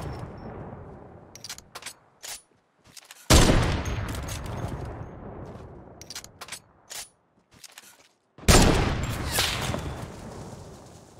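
Gunfire in the Fortnite video game: sharp, loud shots in scattered bursts and single cracks, with two long dense rattling volleys of rapid fire, separated by brief silences.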